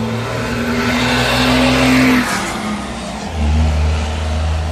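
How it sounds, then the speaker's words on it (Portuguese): A motorcycle engine revs up and settles again, its loud, close drone swelling and dipping with the throttle and carrying steadily through the whole stretch. "vamos lá ver se nós faz a moto pegar"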